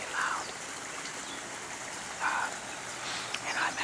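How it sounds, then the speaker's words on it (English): Flowing stream water heard from a ledge about 20 feet above it, a steady, soft wash with brief brighter chirps of birds breaking through a few times. "hopefully this water is relaxing and not overpowering my voice"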